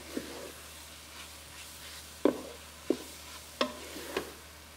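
Butter melting into flour in a pot for a roux: a soft, low sizzle under quiet room hiss, broken by a few distinct spoon taps and scrapes against the pot.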